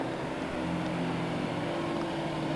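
A fire engine on a practice run in Grayshott rumbles steadily at close range, a continuous low engine drone with tonal hum and no talk over it.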